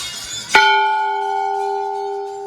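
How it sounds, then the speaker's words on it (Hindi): A single metal bell at a Himalayan Nagraja temple, Sem Mukhem, is struck once and rings out with a long, clear, sustained tone that slowly fades. "घंटी बजा दो भैया"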